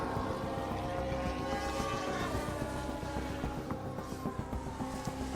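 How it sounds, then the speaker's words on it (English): A helicopter heard from the ground, a loud steady engine drone with pulsing rotor chop that stays close and continuous throughout. "I wanted to see what kind of helicopter that was."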